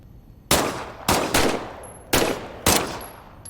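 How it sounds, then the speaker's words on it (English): Five sharp weapon shots test-fired in the Medal of Honor VR game Above & Beyond, loud and close, with two quick pairs and a single blast, each ringing briefly into quiet. "why don't you test fire your weapon?"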